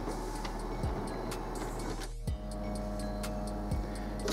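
An HP PageWide 352DW printer running off a print quality report gives a steady mechanical whir with regular ticking clicks and a few heavier clunks of paper feeding, close by and alone without talk.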